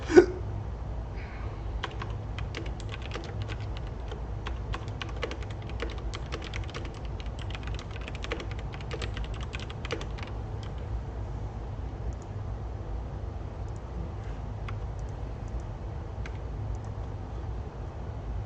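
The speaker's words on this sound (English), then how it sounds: "typing with nails is not easy, by the way." Fingernails type on a computer keyboard, a dense patter of sharp clicks. It is busiest in the first ten seconds, then thins to scattered taps over a low steady hum, with one louder knock at the start.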